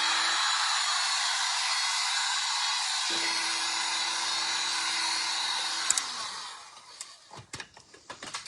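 A dryer blows a loud, steady rush of air to dry an item, running continuously for about six seconds before cutting off, followed by a few light clicks and handling noises.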